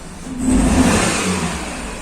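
Fiat Brava engine with an ignition fault revving under throttle, a steady mid-pitched roar that swells in the first second and holds, close and loud, with no talk.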